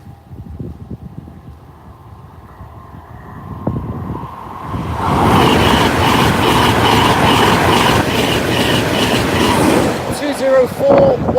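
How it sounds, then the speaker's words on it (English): Train from York passing Cromwell Lane level crossing, a rising roar that builds into a loud sustained rush of wheels and wind buffeting the microphone, with a brief squeal near the end. "first up, the York train from Railway Museum."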